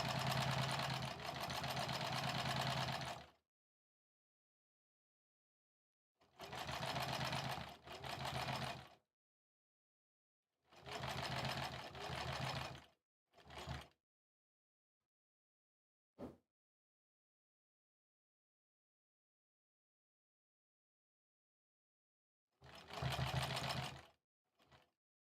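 A sewing machine stitches quilt fabric, quilt-as-you-go row assembly, in loud bursts of rapid whirring, four main runs of a few seconds each with short taps between and silence around them.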